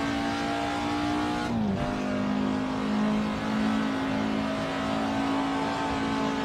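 Race car engine in a video game holding a steady high drone through a lap, with a brief shift dip and continuous road and tire noise, loud and close with no talk.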